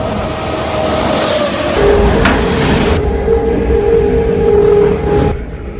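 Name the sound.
moving train, inside an empty carriage at night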